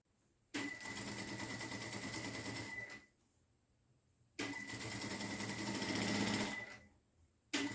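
A sewing machine stitches fabric strips for a dish towel in two sustained bursts of rapid, steady whirring, each a few seconds long, close and clear with a quiet pause between them.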